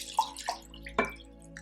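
Fresh water is poured into a basin to rinse dry brushes, giving a few short splashes and drips with a gurgle, close and fairly quiet against a still background.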